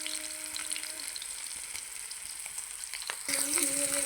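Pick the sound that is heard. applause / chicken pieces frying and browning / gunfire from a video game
chicken pieces frying and browning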